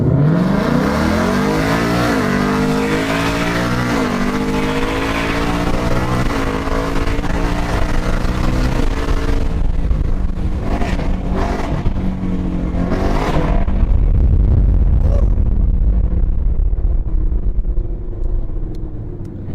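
A muscle car engine revs hard and accelerates away in a street race, climbing loudly through several gear changes, then fading into a distant, rumbling roar.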